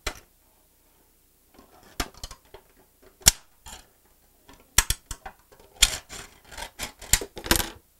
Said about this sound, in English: I'm using just dollar store scissors because I can use them for a while